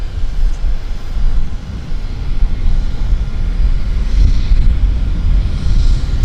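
Aircraft at Vancouver airport bound for Whitehorse, heard as a loud continuous low engine rumble and roar that stays steady throughout, with no voices.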